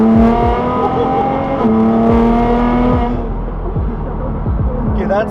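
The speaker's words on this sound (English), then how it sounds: "We'll do a second gear pull here real quick." A Nissan GT-R fitted with a Speed by Design 700 kit pulls hard through second gear, its engine note climbing loud and close, then dropping sharply at a shift before rising again, with tire and road noise underneath.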